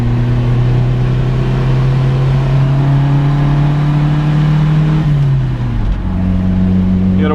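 A small 2-litre Toyota Dyna truck engine drones loudly and steadily as it winds out, then the pitch dips and settles lower as the driver shifts up a gear, close and continuous with no speech.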